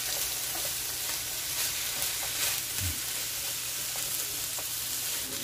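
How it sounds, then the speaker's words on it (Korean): Onions sizzle and fry steadily in a pan greased with fat from cooking meat for fajitas, a continuous close crackling hiss with occasional stirring. "양파를 데치겠습니다."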